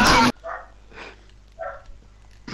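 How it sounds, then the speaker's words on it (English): A dog barks in Minecraft: a loud burst opens, followed by three or four softer, spaced yips and barks, close and clear with no talk. "Whose dog is that?"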